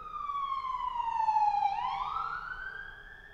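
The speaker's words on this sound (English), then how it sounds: "a siren just went by the church" A wailing siren sweeps down and then back up in pitch, fairly faint and distant, as an emergency vehicle passes outside a church.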